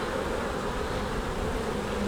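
Honey bees drone in a dense, continuous buzz around hive frames during a hive inspection, steady and close throughout with no voices.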